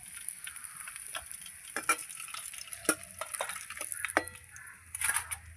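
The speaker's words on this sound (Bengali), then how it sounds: "বাদ বাকি মাছগুলো ভেজে নেব।" Rohu fish pieces frying in oil in a pan, a close, gentle sizzle broken by sharp spattering crackles and pops, growing a little busier toward the end, with no speech.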